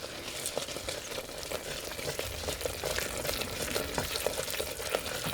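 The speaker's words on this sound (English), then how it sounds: "And then we're going to stir." Oats are stirred in a hot pot with a soft continuous sizzle and faint bubbling, broken by light scraping strokes of the spoon at an even pace; nobody speaks.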